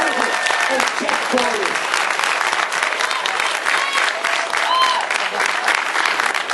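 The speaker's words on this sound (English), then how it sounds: "How about another round of applause for Hall of Famers Ray Evernham" A seated audience at the NASCAR Hall of Fame gives sustained applause for its Hall of Famers, a dense and steady clatter of many hands, with a few voices and cheers mixed in.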